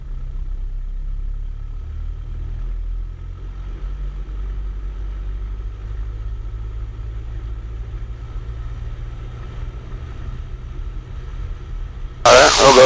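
A light aircraft's piston engine holds a steady low drone during a run-up at 1800 RPM, heard from the cockpit, with a sudden loud burst of noise at the very end.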